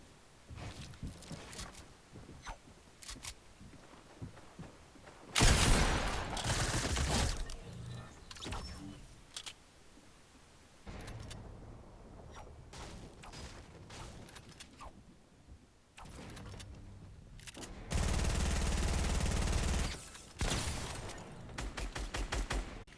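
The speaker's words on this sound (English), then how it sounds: "I get my pump shot off." Video game gunfire from a pump shotgun and an SMG, loud sustained bursts of shots coming in several separate waves amid scuffling movement and quieter gaps.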